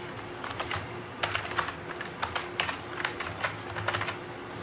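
Keys clack on a computer keyboard in short irregular bursts, close and fairly crisp, with a few louder strikes like the Enter key standing out over a low steady hum.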